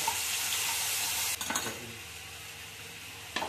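Spices sizzle loudly in hot oil in a pan, a continuous close hiss broken by a few scraping stirs before it settles and briefly flares again.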